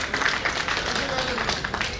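Applause from a Hindi poetry audience at a Holi festival gathering: soft, steady clapping from a crowd, fairly faint and diffuse, with a voice murmuring faintly beneath it.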